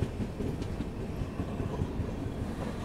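The Rajasthan Humsafar Express rolls along the rails on a curve approaching Phulera Junction, a steady, close rumble with faint clicking from the wheels and no talk.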